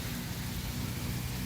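Heavy rain pours down steadily, a dense close hiss filling everything with no pauses, amid the hum of generators running after a power outage.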